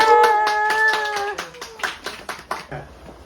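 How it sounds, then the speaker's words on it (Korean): Family members clap at an eightieth birthday celebration, a close, uneven patter of hand claps following a sung tone, tapering into a few scattered claps near the end. "박수!"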